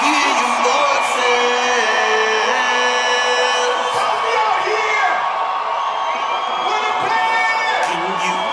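A concert crowd at a release party screams, whoops and cheers loudly and continuously, with dense overlapping voices filling the whole stretch.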